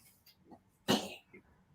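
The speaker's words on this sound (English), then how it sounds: "It's a sneezing cat." A cat sneezes once, a sharp sudden burst, close and fairly loud against a quiet background with faint small sounds around it.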